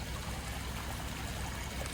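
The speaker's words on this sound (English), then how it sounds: "Little babbling brooks, and that water is pretty clear" A small babbling brook of clear water at a highway rest area trickles and burbles steadily, faint and continuous, with no talking over it.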